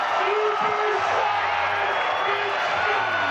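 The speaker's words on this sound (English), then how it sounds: "The crowd loves it." Crowd at a 1995 AVP beach volleyball tournament in Boulder cheering after an ace in sudden death overtime, a sustained roar of voices and whoops, steady and loud, with faint hums in the background.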